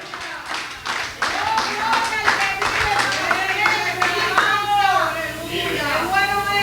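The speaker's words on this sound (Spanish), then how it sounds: "Ese aplauso sea para el Señor" An evangelical church congregation claps in a busy patter that runs throughout, mixed with loud voices speaking and calling out over it.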